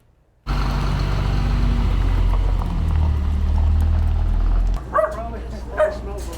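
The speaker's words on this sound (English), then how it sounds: "Brandywine Valley SPCA welcomed 20 new dogs into their care." Several dogs and puppies bark and yip in a noisy animal shelter kennel, with a steady loud din of overlapping barks and a few sharper yelps near the end.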